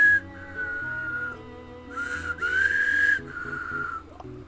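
Someone whistles near water at night, a thin melodic tune in several phrases with short pauses, fairly close and clear over a quiet low background hum.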